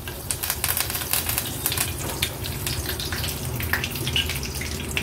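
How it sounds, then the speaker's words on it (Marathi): Curry leaves crackle and sizzle in hot oil as tempering for a Kolhapur-style whole masoor curry. The dense, popping hiss is close and continuous, with no talking. "फक्त कढीपत्ता फोडणीला घालते"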